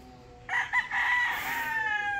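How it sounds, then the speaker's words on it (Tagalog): A rooster on a farm lets out a single short crow, fairly close and clear against a quiet background. "So, meron na rin ilang pirasong manok nito."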